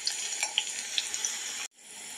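Garlic and chili sizzle steadily in a generous amount of hot oil for an aloo baingan fry, a bright crackling hiss with small pops, before cutting out abruptly near the end and resuming more softly.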